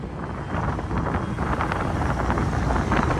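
Strong blizzard wind roars steadily from outside a vehicle in Slater, a dense, continuous rush with no gaps or voices.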